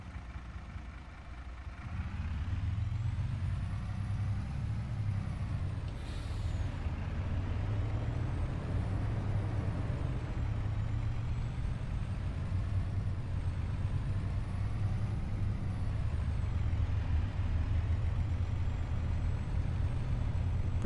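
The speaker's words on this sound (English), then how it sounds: "There's a dumpy truck." Dump truck in Farming Simulator 25 on an Australian farm map, a steady loud diesel engine drone with a whine rising and falling, after a brief air-brake hiss at the start, and no talk.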